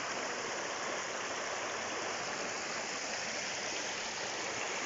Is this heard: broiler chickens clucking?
no